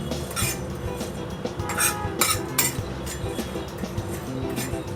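Spices roasting on a tawa, stirred with a metal spoon that clinks and scrapes repeatedly against the hot iron pan, close up, with no talking.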